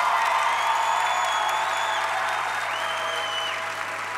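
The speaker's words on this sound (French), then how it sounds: "Que tous ceux qui ont été bénis applaudissent" A church congregation applauds together, a dense, loud, even wash of clapping with a few cheers and whistles on top, holding steady before easing slightly at the end.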